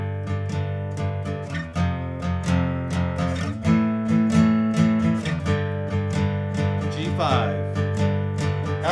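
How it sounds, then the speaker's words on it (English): Electric guitar power chords (G5, F5, A5) strummed in a steady down-down-up-down-up pattern, clear and moderately loud, each chord ringing into the next with no talking. "So let's just do a down, down, up, down, up strum."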